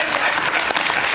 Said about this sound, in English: Give her a round of applause for surviving.